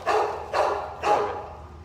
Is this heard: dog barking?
yes